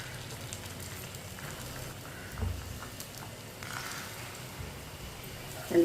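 Eggs cooking in a pan with about two spoons of lightly heated oil give off a steady soft sizzle and patter, fairly close and even, with a few faint bumps.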